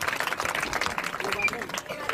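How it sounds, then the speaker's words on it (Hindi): An audience gives a small girl singer a round of applause at a patriotic event in India. The quick, steady clapping stays close and fairly even, mixed with crowd chatter. "जोरदार तालियां मेरी नन्ही गायिका के लिए।"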